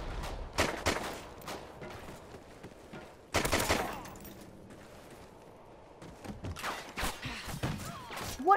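Video game gunfire from Call of Duty Ghosts: bursts of rapid shots and heavier booms come in clusters, fairly faint overall with quieter gaps between volleys.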